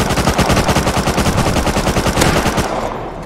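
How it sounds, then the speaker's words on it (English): Rapid automatic gunfire in the survival game Rust, a loud, continuous burst of evenly spaced shots emptying a full magazine before stopping abruptly. "I just put a full clip into it."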